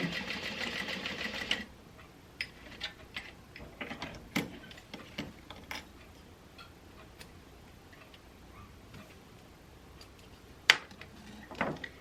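A sewing machine stitches across the bottom of a bag in a brief, loud, rapid buzz, followed by quiet scattered ticks and clicks as the work is handled.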